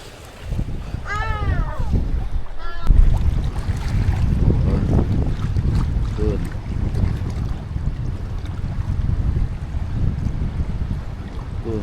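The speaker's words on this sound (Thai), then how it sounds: "ลมฝนแรงวันนี้" Strong wind buffets a fishing raft on open water in a rain squall, a steady rough rushing roar with gusts, and a voice talks intermittently over it.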